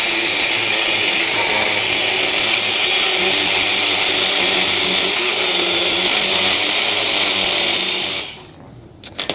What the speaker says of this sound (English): I'm gonna grab an angle grinder and we're gonna get this thing cut.